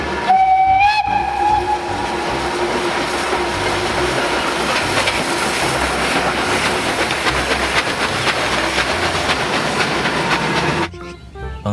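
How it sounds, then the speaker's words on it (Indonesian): A coal-hauling train rumbles past steadily and loudly with clattering wheels, a brief whistle or horn tone at the start, then it fades as the train passes. "Di sini ada kereta api."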